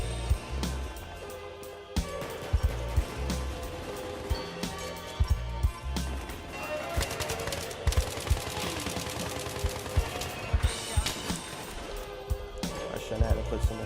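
Battlefield 3 Aftermath gunfire in scavenger mode crackles steadily in the background while someone talks over it, with sharp repeated shots punctuating the continuous clatter.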